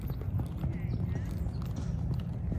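Hooves of a gaited horse clip-clop in a quick, steady rhythm as it moves into a canter during a training clinic, close and clear, with an instructor talking over the hoofbeats.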